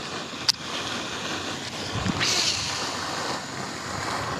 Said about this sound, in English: We do have some wind.